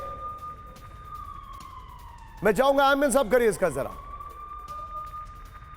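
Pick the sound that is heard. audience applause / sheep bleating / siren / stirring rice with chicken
siren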